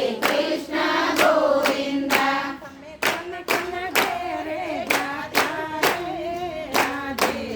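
A group claps in a steady rhythm along to a devotional Radhe Krishna Govinda bhajan, sharp regular claps over sung melody and voices, moderately loud and close.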